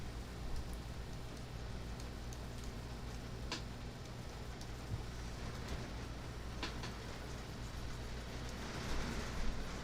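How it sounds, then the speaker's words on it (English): Heavy rain pours down outdoors, a steady dense hiss with a few faint ticks and taps of drops on a surface, continuous and evenly loud throughout. "Boy, that's coming down out there. Oh yeah. It's raining."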